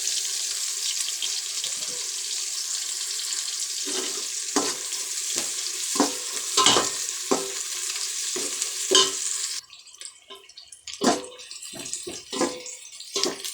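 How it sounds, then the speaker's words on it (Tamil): Onions with whole spices such as cinnamon and bay leaf fry in a pan for chicken biryani, giving a constant close sizzle broken by repeated scraping stirs, then a quieter, sparser sizzle with a few more stirs. "வெங்காயம் நல்லா பொன் வறுவலாக வறுத்துக்கணுங்க"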